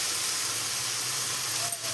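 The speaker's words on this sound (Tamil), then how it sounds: "இப்போ இந்த தக்காளி வெங்காயத்தை அதில் ஊற்றணும்." A ground tomato and onion paste hits a hot pan for a fish curry, giving a steady loud sizzling hiss that flares briefly near the end. No one speaks.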